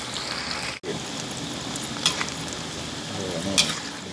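Shrimp heads that had been frozen for about a year deep-frying in hot oil, a steady close hiss and crackle of bubbling fat with a few brief sharp pops, no voices.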